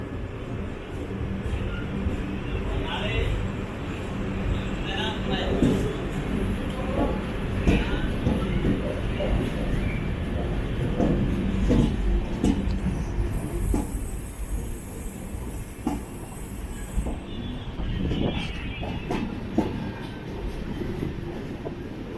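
Interior of the 06346 Netravati Special train departing Kannur, with a continuous low rumble of rolling coaches and faint squeals, steady throughout under occasional brief voices.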